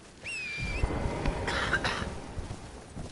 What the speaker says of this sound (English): You know what else was matured is this stupid cough.